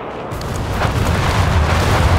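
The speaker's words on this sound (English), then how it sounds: "here comes the carpet bombing" Carpet bombing in the Company of Heroes 3 strategy game unleashes a dense, continuous roar of heavy explosions and rumbling booms that builds after a brief quiet start and stays loud throughout.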